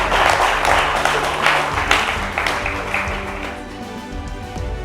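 A live audience applauds during the 2024 Génie en herbe final's trophy presentation, a dense, steady wash of many hands clapping that stays loud and full before easing slightly toward the end.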